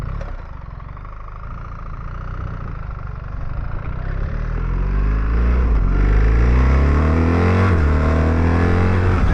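A 2024 BMW R1300GS motorcycle climbs a twisty road, its engine close and loud and rising steadily in pitch as it accelerates through the gears, with no talking.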